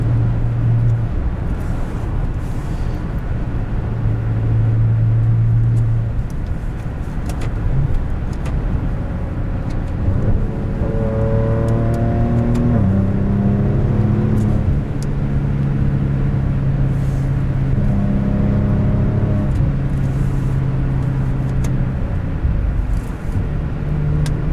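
A 2014 Maserati Ghibli with a ZF 8-speed automatic accelerates on the road, its engine note climbing and dropping through several gear changes. The engine is loud and continuous from inside the car, over steady road noise.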